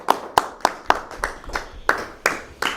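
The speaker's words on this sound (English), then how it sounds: "Can I applaud that?" Sparse, slow claps from a small group, about eight distinct sharp hand claps spaced roughly evenly, close and fairly loud with a quiet room between them.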